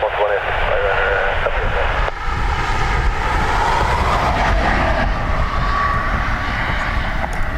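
A Ryanair airliner moves at Dublin Airport near the north runway. A loud, continuous engine roar rumbles steadily throughout, with voices talking over it.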